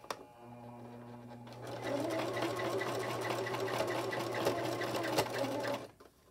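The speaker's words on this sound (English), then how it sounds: "I'm sewing 1/4 of an inch seam" A sewing machine stitches a quarter-inch seam on an 18-inch doll dress, first a steady motor hum, then a rapid rattling needle run that grows louder, keeps going for several seconds and stops abruptly.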